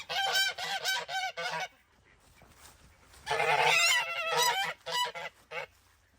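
Geese honk loudly nearby in repeated bursts of harsh, nasal calls, falling quiet for a moment before another burst of honking.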